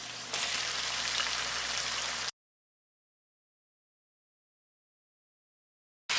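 Chicken pieces for karahi sizzle loudly in hot oil in a handi, a dense steady crackle lasting about two seconds before cutting to silence.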